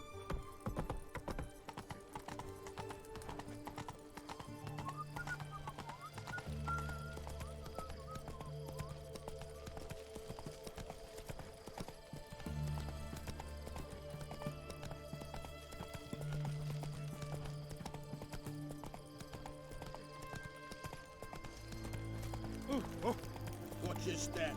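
Horse hooves clip-clopping at a steady gallop in The Witcher 3 video game, a rhythmic pounding over game music and ambience, with a brief whinny and faint spoken dialogue mixed in.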